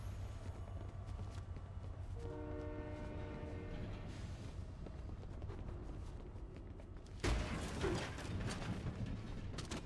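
Train in the Fortnite video game, its horn sounding in a sustained steady blast over continuous rolling rail rumble, with a louder burst of rushing noise near the end.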